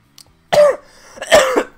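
A person coughs twice in quick succession, close and loud, each cough a sharp burst with a rough, throaty tail and a short pause between them, no speech.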